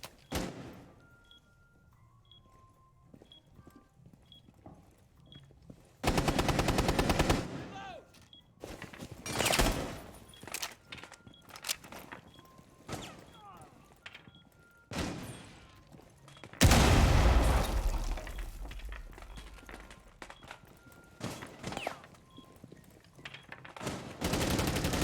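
Gunfire in the video game Rainbow Six Siege during a long-range fight, with loud bursts of shots around six seconds and again from sixteen seconds, plus scattered sharp cracks and faint game sounds between.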